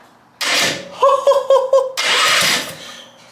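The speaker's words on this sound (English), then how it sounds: "if I push the starter button up here, the engine should spin over" A half-scale NASCAR race car engine is cranked over by its electric starter: a whirring burst, a stuttering run of rhythmic turning, then another steady whir, all loud and close.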